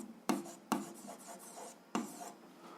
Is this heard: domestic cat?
no